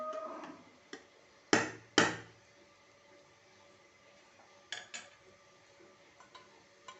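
A metal pressure cooker lid is set onto the cooker while making mushroom biryani: two sharp metallic clanks close together, then a few lighter clicks and taps in a quiet kitchen.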